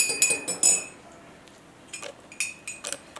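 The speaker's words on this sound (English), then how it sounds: "Add some milk. And give it a good stir." A spoon stirs milk into a cup of tea, clinking sharply against the cup in a quick run of bright taps, a pause, then a few more scattered clinks, close and clear.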